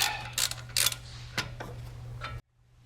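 Bolts on a Land Rover Discovery Series II brake mount are run out with a ratchet, giving a string of close, sharp clicks over a steady low hum before stopping abruptly.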